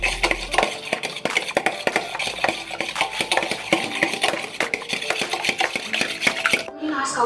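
A utensil stirs paprika into food in a bowl, giving quick, continuous scraping clinks against the side, close and busy, then stopping abruptly at the end.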